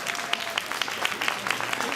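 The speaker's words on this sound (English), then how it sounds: "Let's give them a big round of applause." An audience at a DC Democrats Kennedy-King gala claps in steady, dense applause, moderately loud and sustained throughout, with a faint crowd murmur underneath.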